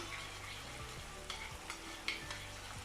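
Sauce stirred in a pan over high heat, a soft continuous sizzle with a few scraping strokes of the spoon repeating close by, no voices.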